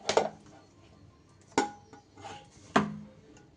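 A pan knocks against a plate three times as fried soybean food is poured out, each clatter a sharp metallic clank followed by a brief scraping rattle, close and fairly quiet in a still room.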